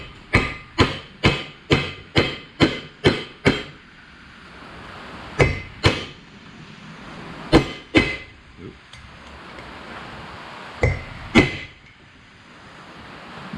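A hammer seats a front wheel bearing on a 2005 Ford Ranger, ringing metallic strikes that come first as a rapid run of eight or so evenly spaced blows, then as scattered single and paired hits, loud and close.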